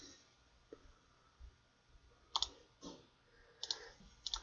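Faint mouse clicks at a computer while tracing the middle of a curve in PSIM thermal module software, a few soft isolated clicks spread irregularly over a quiet background hum.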